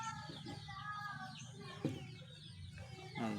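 A pet chick clucks softly while being fed black peppercorns, short chirpy calls repeating close by over a steady low background hum.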